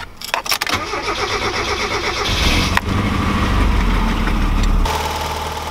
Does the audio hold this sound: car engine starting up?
yes